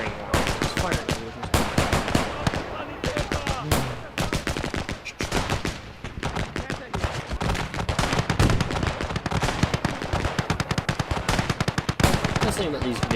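Machine gun fire from a firing line in the war strategy game Call to Arms, rattling in long, dense bursts for the whole stretch, with overlapping gunshots and distant booms.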